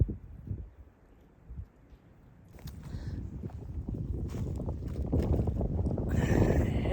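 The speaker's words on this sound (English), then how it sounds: "And here comes the wind again." Wind moves through a spring forest. It starts faint and patchy, then builds into a louder, steady rushing gust that keeps swelling toward the end.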